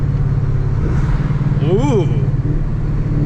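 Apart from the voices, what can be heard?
Ford truck with 10R80 transmission downshifting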